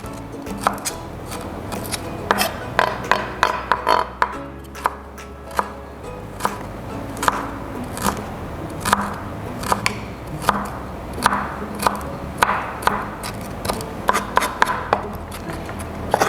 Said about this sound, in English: You cut it off and then you mince it because it's quite hard.